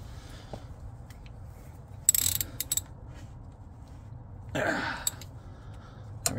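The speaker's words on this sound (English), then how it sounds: "You're going to take your 11 millimeter and tighten that sucker right back down." An 11 mm ratchet tightens a brake caliper bolt on a GMC Acadia–type SUV during a caliper, rotor and pad job, with two short bursts of ratcheting clicks over a quiet garage hum and no speech.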